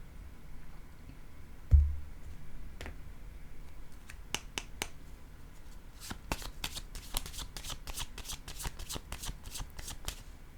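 Tarot cards being shuffled and handled, a burst of sharp riffling clicks and flicks that start sparse and grow dense toward the end, close and fairly quiet with a soft thump near the start.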